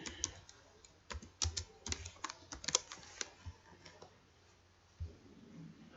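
Typing on a computer keyboard while entering text into OBS Studio software: irregular bursts of crisp key clicks, close and fairly quiet, with brief pauses between groups and a final isolated tap, no voices.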